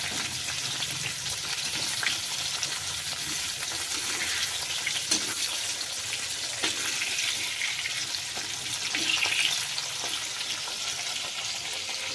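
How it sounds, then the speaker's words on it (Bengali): Pieces of pointed gourd (potol) rubbed with turmeric fry in a kadai, producing a loud, dense, unbroken sizzle with occasional soft clicks from stirring. "তো চলো পটলগুলো ভেজে নিই"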